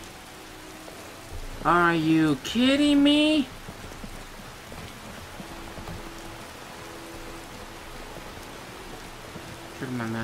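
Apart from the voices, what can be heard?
rain in the video game Skyrim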